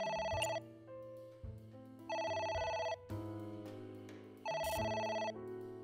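A telephone rings in the video game AI: The Somnium Files, three loud electronic ring bursts repeating over a steady low musical background, with no talking.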